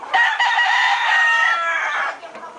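Several backyard chickens cluck and a rooster crows loudly and close, one continuous burst of overlapping fowl calls with no talking.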